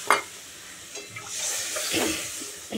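Water poured into a pan of well-fried spice paste for a fish curry, a close splashing gush that starts abruptly and runs for a couple of seconds with faint clinks.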